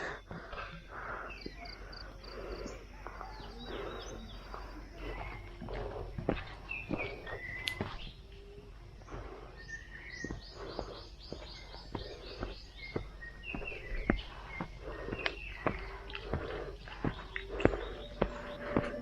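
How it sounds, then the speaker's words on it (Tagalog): Outdoor ambience on a mountain hiking trail with chirping birds scattered throughout and soft footsteps crunching and rustling through grass, fairly quiet and steady. "Marinig mo yung mga ibon, kaluskos ng grass, diba?"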